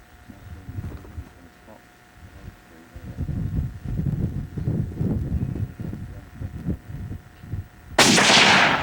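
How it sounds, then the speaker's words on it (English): A .30-06 rifle fired at a red stag during a hunt: a single sharp, loud broadband shot bursts out near the end, after several seconds of quiet murmured talk and outdoor wind. "placed his shot from the 30-06 perfectly"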